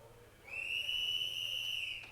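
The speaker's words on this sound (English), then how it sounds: "There's the whistle, my man." A referee's whistle blows one long, steady, shrill tone at a STIHL Timbersports Nordic Pro Championship, lasting over a second against a quiet background hum.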